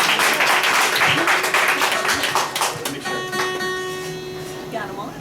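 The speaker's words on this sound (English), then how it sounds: "Give them a nice round of applause." Studio audience applause for a band on a radio show, a burst of dense clapping that fades after a few seconds into quieter room sound with tones and some talk.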